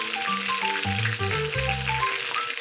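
Chicken inasal fries in a kawali pan, giving a steady, close sizzle throughout, with sustained tonal notes running underneath.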